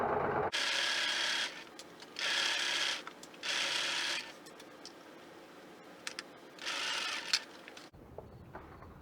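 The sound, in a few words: sewing machine stitching fabric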